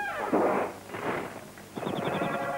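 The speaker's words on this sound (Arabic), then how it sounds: "إنه مسدس مائي" A cartoon water pistol fires in a short burst of loud, splashy bursts, a few in quick succession, then a rapid rattling spray with bright chirps. It is close and dominant, with no talk.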